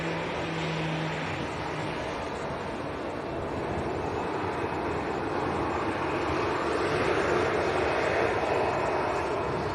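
A Ryanair jet with Maltese registration rumbles steadily at Leeds Bradford Airport, a broad continuous engine roar holding at moderate distance with no talk over it.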